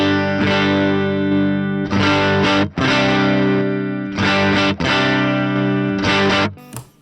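Electric guitar run through an HX Stomp preset with overdrive, loud sustained distorted chords struck in several sections with brief breaks between them, thick and saturated, with no one speaking.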